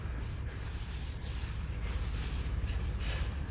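Paint thinner and a rag rub tape residue off a motorhome's metal roof, making a steady scrubbing sound with repeated back-and-forth strokes, close and continuous.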